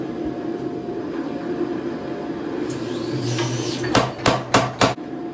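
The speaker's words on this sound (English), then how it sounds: "The first step to forging the scroll is going to be to go ahead and forge a one-sided taper on the end of the bar." A hammer forging a one-sided taper on the end of a steel bar, beginning after a quiet stretch of shop hum with four sharp ringing strikes in quick succession near the end.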